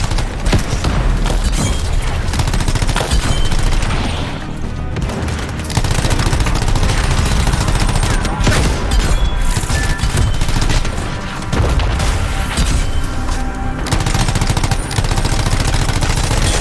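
A machine gun in the video game Anthem firing continuously at a very high rate, a dense, loud, unbroken roar of shots mixed with booms and impacts throughout.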